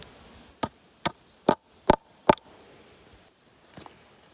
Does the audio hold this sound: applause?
no